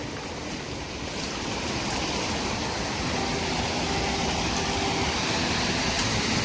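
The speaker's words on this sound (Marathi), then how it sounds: "पाऊस आलाय." Rain falling by the Kajali river makes a constant broadband rush of water, loud and even throughout with no break, and no voices.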